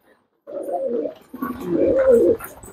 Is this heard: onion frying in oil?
no